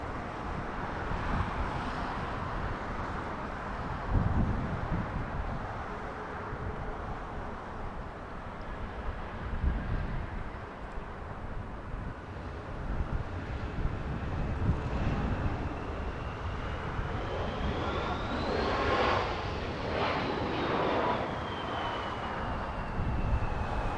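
An airliner taxiing at Los Angeles International Airport, a steady broad engine rumble and whine held at moderate loudness, with a rising then falling tone near the end, no voices.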